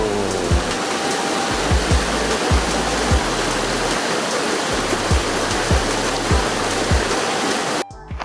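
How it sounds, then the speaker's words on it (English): A big waterfall in Wells Gray Provincial Park roars as a steady, loud, close wash of falling water that continues unbroken for most of the clip before cutting off abruptly near the end. "And a big waterfall."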